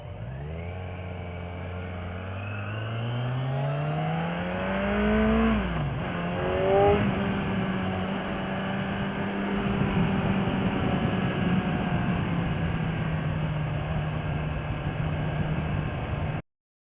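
A 2015 Kawasaki Z1000 motorcycle engine revving up and then holding a steady drone as it rides, close and continuous throughout.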